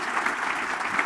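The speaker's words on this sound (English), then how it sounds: "Let's give them a nice round of applause." Sustained clapping from a civic gathering at a State of the City address in Bloomington, a dense, even round of applause from many hands with no voices heard.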